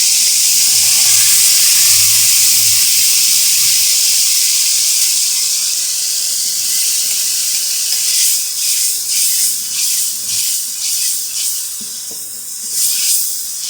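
Spice paste mixed with dry ingredients fries in hot oil over high flame for a mixed vegetable sabzi, a loud, steady, close sizzle and hiss that later breaks into bubbling, spattering pulses.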